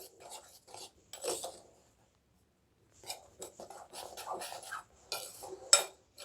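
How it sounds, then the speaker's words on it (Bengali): Chopped vegetables being mixed with turmeric for pakora batter, bursts of close, dry scraping and rubbing of a spoon against a bowl, broken by a short pause and then resuming in quick uneven strokes. "মিশিয়ে নিই ভালো করে এগুলো।"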